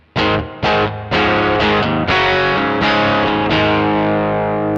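A heavily distorted electric guitar through a Mosky Classic M Shall amp simulator strikes several loud chords in quick succession, then lets the last one ring out with thick, buzzing sustain.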